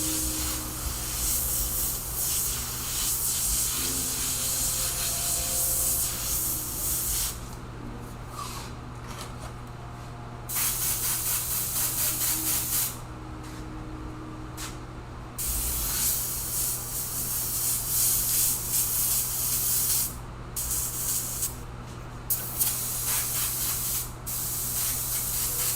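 An airbrush sprays paint onto a shirt in a loud, close, continuous hiss, broken by several short pauses where the spray cuts off and resumes, over a low steady compressor hum.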